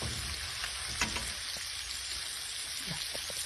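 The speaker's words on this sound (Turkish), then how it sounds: "Kaynamaya bırakıyoruz makarnamızı" Pasta boiling in a covered pot of water, with a steady hiss of bubbling and faint scattered pops and clicks, close and continuous without any talk.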